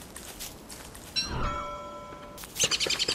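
A bird in the video game Don't Starve gives a short series of tonal chirps, faint and close, among quiet game sounds and soft footstep-like clicks.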